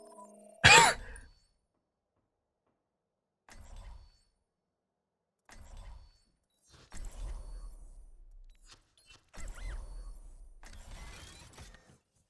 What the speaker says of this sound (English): Okay, I coughed a little bit